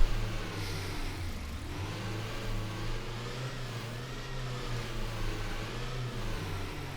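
A video game car engine in Ultra Off Road Simulator 2019: Alaska hums and revs steadily at a low pitch, holding a continuous drone with slight rises throughout, with no voices.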